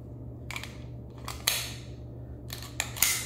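A Beretta magazine is tried in a Girsan MC 39 pistol, giving a few sharp metallic clicks and clacks, close and fairly loud, in two short clusters against a quiet background hum.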